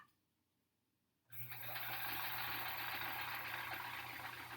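Sewing machine running steadily while stitching a quilt border, starting abruptly after a second of near silence and then humming loud and continuous to the end, with no talk.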